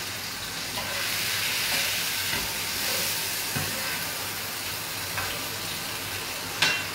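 Salmon sizzles steadily in a hot pan for salmone all'arancia, a continuous bright frying hiss at moderate level with a few small crackles and a sharper pop near the end, no talking.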